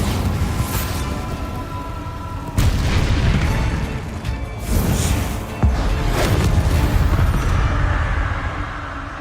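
Bombarda and Confringo spells explode in the Hogwarts Legacy video game, producing a series of loud booming blasts and whooshes over a dense, continuous rumble of game effects.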